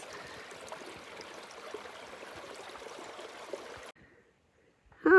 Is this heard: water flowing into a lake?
yes